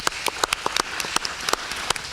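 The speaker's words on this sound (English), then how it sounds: "a round of applause" Sparse, uneven applause from a small audience at a city schools board meeting, a handful of separate claps scattered across a couple of seconds with no talking.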